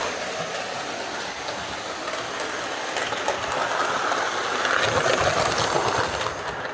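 A tender-driven Hornby Flying Scotsman model locomotive runs on a layout after repair, its small motor humming with a steady rolling rumble and light clicking of wheels over track, close by and continuous.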